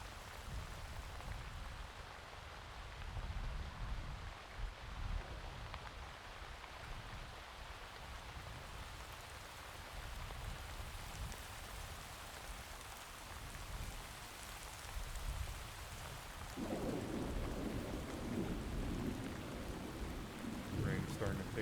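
Steady rain pours over open ground in the Arma 3 military video game, a soft hiss that holds for the whole stretch and thickens with a low rumbling swell toward the end.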